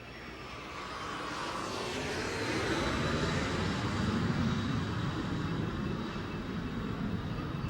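A single airplane passing overhead near a beach airport, a steady broadband engine roar that swells slightly toward the middle and holds loud throughout, with no voices.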